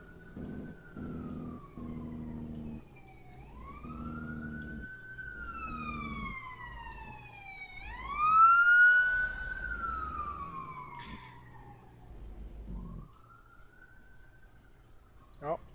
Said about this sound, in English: I hear sirens outside as well.